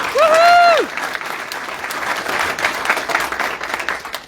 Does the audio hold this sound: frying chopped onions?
no